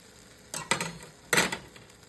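A buttered tuna melt sandwich frying in a pan is turned over, giving two short bursts of sizzling and scraping against the pan amid faint background frying; no talking.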